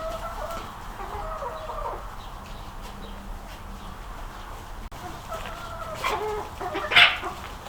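Chickens clucking faintly in a farmyard with goats and a turkey nearby, soft scattered clucks over quiet background, one sharper call near the end.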